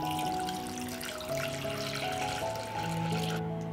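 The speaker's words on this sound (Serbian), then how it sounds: "I sipat ćemo vodu do visine poklopca." Water poured steadily into a pot holding jars set on a cloth at the bottom for pasteurization, a continuous close-up running, gurgling stream with rising tonal filling notes and no talk.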